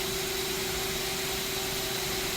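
A 2012 Mazak Quick Turn Smart 300 CNC lathe rapid traversing gives a steady, fairly quiet machine hum with a strong sustained tone and broadband whir, continuous throughout with no talking.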